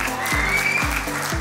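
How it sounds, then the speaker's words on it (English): Applause for the Sea Striker crew at the 2022 Bermuda Billfish Blast fishing tournament awards, a steady wash of clapping with a low musical backing running beneath it. "Let's give a big round of applause for Sea Striker"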